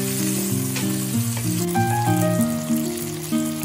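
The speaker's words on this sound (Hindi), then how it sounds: "अच्छे से मिक्स करेंगे, भून लेंगे कि तमाम मसाला रेडी हो जाए।" Tomato, tamarind and green chili masala frying in a pan, a soft, steady sizzle beneath louder background music.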